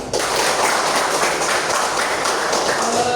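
Students in a classroom clap together in a dense, steady burst of applause lasting about three seconds, close and fairly loud.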